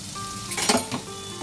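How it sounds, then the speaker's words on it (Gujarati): Tomato gravy poured into hot oil seasoned with turmeric bursts into a loud sizzle that swells and fades within a second, with a faint clink of a utensil against the pot and no talking. "પછી આપણે ધીરે રહીને આ ટામેટાની ગ્રેવી ઉમેરીશું"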